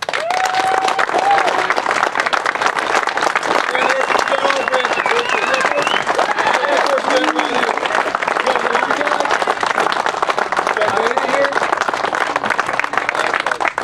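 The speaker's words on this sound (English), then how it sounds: "These people here deserve a round of our applause." A large outdoor crowd at a ranch rally applauds steadily and loudly for the whole stretch, with scattered voices and cheers mixed into the sustained clapping.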